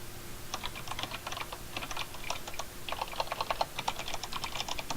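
Rapid clicking on a computer keyboard goes on in steady bursts with short pauses, close and moderately quiet, no voices.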